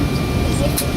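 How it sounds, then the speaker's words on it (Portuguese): Steady low airplane engine drone inside the passenger cabin of a plane about to take off, a constant rumble filling the background. "Esse barulho, ó, é do motor dele."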